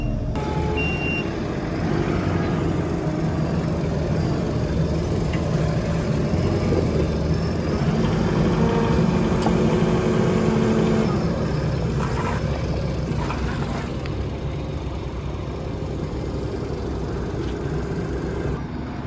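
A tractor pushes a Horsch drill with its front carriage, giving a steady, loud diesel engine drone that continues for the whole stretch. Faint intermittent beeps sound over it.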